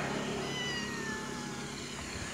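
A kitten meows steadily outdoors in Sangolda, Goa, a continuous close cry over a bed of street noise.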